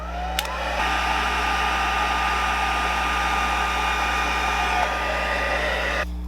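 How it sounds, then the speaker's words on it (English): A heat tool blows steadily as it melts clear embossing powder on a handmade card. The strong, even whoosh starts with a click and holds close and constant for several seconds before cutting off. "Just going to take a heat tool, and I'm only going to heat this up until the powder turns clear."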